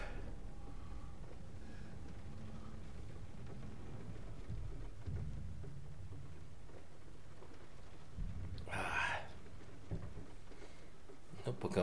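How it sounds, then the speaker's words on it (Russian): Rain falls on a planet in the video game GTFO, a steady low wash of rainfall with rumbling undertones and a brief brighter burst near the end, continuous throughout. "пока у них там дождь на планете"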